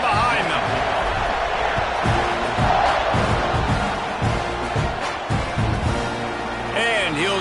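Stadium crowd in the College Football 26 video game at a Texas A&M versus Tennessee matchup, a continuous roar of cheering fans, with voices talking over the noise.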